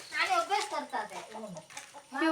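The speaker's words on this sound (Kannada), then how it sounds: "ಕೋಳಿ ನೋಡಿ" A chicken clucks in a quick series of short, rising and falling calls, fairly close and clear, with a voice faintly present in the background.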